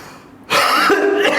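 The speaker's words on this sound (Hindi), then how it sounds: "थोड़ी बहुत खांसी आ रही है" A man coughs and clears his throat in one loud, close, rough burst that follows a brief quiet moment.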